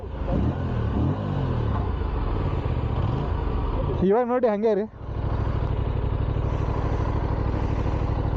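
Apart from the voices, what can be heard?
tractor engine running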